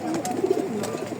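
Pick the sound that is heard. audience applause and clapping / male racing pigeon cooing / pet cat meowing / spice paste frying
male racing pigeon cooing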